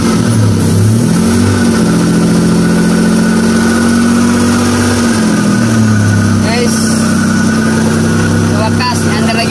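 A Suzuki F6A engine in a 4x4 runs steadily after a head gasket replacement, its loud continuous idle droning close by with slight rises in pitch, while people talk over it.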